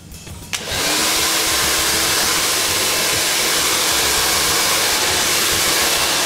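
A hair dryer blows steadily and loudly while wavy hair is worked with a large round brush, a continuous broadband whoosh starting after a brief quieter moment and holding unbroken to the end.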